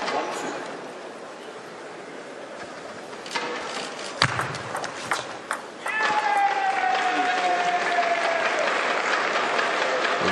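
Crowd at a 2016 German Open men's singles table tennis semifinal between Zhang Jike and Ma Long, clapping and cheering after a point; a steady roar swells midway, with a commentator talking over it.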